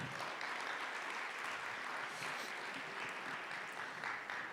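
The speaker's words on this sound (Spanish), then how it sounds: "Dale un aplauso al Señor Jesús" Church congregation applauding in praise of Jesus at a sermon, a steady even wash of clapping that holds for several seconds with no break.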